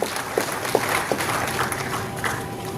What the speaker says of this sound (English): Can we have a big round of applause for sir once again?